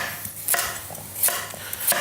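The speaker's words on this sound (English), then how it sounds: "So let's cut it in just centimetre pieces." Knife chopping carrots into centimetre pieces on a board, three sharp, evenly spaced cuts about two-thirds of a second apart, close and fairly quiet with no talking.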